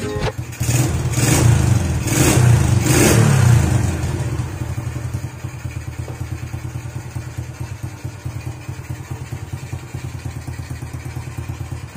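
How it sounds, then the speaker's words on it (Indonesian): A Honda Astrea Grand motorcycle engine with a leaking exhaust runs nearby, loud rhythmic bursts early on, then settles into a steady idling putter for the rest of the clip. "mesin udah nyala guys"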